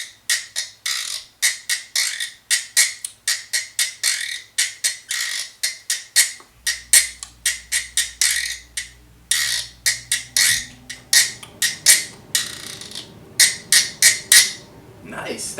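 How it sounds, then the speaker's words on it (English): A wooden güiro is scraped back and forth with a wooden stick, giving a steady run of short, bright rasping strokes in a quick rhythm that stays close and fairly loud, with a low hum and some background noise underneath. "you're taking a wooden stick and kind of dragging them back and forth across those ridges to create the sound"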